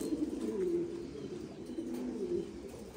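Thai Titan meat pigeons coo on a pigeon farm in Vietnam, low rolling throaty calls overlapping continuously from several birds nearby, with no talk.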